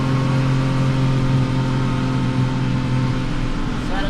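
A CFMOTO U10 UTV engine holds a steady, loud drone while shifting into high gear, a continuous mechanical hum heard from inside the soundproofed cab, with no clear break in the sound.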